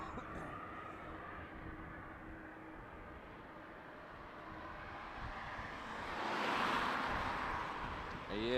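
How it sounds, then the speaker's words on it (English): Tarom Boeing 737-800 in SkyTeam livery on landing approach to Runway 18R at Schiphol in winter conditions, a faint distant engine hum slowly growing into a louder passing roar near the end. "So next up we have the Tarom 737-800 in the SkyTeam livery."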